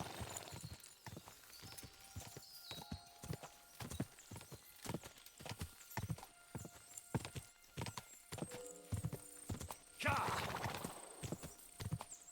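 Video game audio from Kingdom Come: Deliverance II: rapid, regular hoofbeats clip-clop nearby in a brisk rhythm, a horse whinnies partway through, and a brief crash of breaking sounds near the end.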